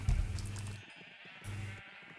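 Sheep bleating in Minecraft, two loud close bleats separated by a short gap, with no talking during them.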